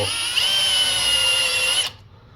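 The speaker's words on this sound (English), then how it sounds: "on the back here I'm going to hit it with a little heavier chamfer because my bolt is going to come up and set in there" A power drill spins up to cut a heavier chamfer into a bolt hole on the back of a homemade oar lock rod holder, with one steady high whine that holds for nearly two seconds and then stops abruptly.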